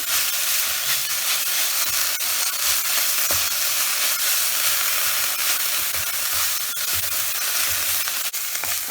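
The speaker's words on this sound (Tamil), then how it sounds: "இப்போ பாருங்க, நம்ம நல்லா வதங்கிடுது." Coriander and tamarind sauté in a pan, giving a loud, continuous hissing sizzle with faint occasional scrapes underneath.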